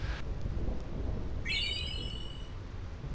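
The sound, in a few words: lightning strikes in video game Final Fantasy X Thunder Plains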